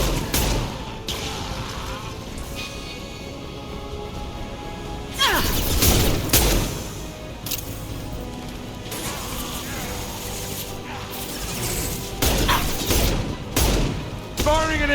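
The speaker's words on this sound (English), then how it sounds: "Firing concussive shot." Concussive Shot fired in the video game Mass Effect 2 lands as a heavy booming blast amid a continuous game soundscape of gunfire, crashes and mechanical effects, while a voice talks over the action.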